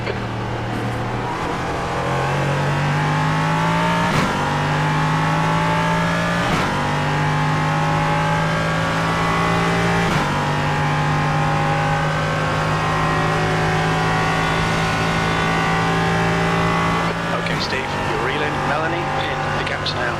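Racing car engines roar loudly and continuously, shifting through gears with repeated rising revs as the cars close on slower traffic, with team radio talk over the top.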